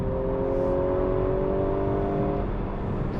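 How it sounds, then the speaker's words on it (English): An Audi A5 Sportback's engine drones steadily up close on a public road, its pitch holding through a mid-corner downshift with a slight change near the end, no talk over it. "downshift mid-corner"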